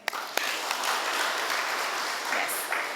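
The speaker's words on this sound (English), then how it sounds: "Let's give a round of applause for all the long-timer today." Congregation applauding long-time members at an English-language church worship service; steady, fairly loud clapping filling three seconds, with a few sharper claps near the start.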